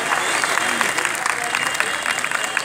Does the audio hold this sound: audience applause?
yes